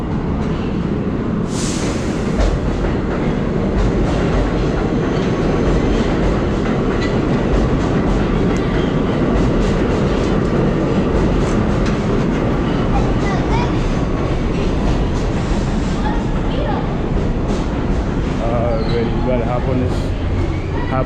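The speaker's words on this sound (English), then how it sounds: "There you go, the train right there. It's coming." A New York City subway train pulls into the station with a loud, continuous rumble and rattle of wheels on rails and the occasional screech. Voices and platform noise sit underneath.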